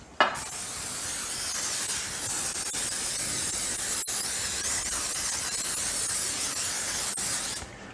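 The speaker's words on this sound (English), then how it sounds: "I'm going to take my spray, and I'm going to spray my pan" Cooking spray hisses steadily from a can onto a 9 by 13 baking pan, a close, continuous airy spray lasting several seconds with a few tiny breaks and no talking.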